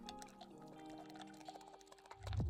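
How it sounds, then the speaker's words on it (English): A coolant and distilled water mix is poured into a machine's cooling system, a soft trickling of liquid that swells briefly near the end, quiet and close. "fill the cooling system with a mix of coolant and distilled water"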